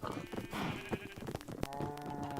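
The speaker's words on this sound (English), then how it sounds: "We have goats here now." Soft, short bleats from a few Minecraft goats over quiet background clatter and faint clopping, fairly distant.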